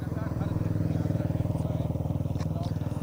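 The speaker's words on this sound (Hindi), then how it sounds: "22 किलोमीटर का सफर अब तक जो है बब्बन राव तय कर चुके हैं अपनी मोटरसाइकिल के ऊपर" An Indian Army soldier's motorcycle during a record-setting ride in Jabalpur, Madhya Pradesh: a steady, pulsing engine throb runs continuously at close range, loud and rhythmic, with a faint clatter on top and no clear speech.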